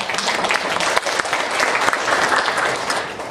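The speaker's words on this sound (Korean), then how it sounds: "박수 한번 받으세요." Audience at a 2015 dairy farm annual general meeting applauds the farm director with a dense, continuous burst of clapping, loud and close.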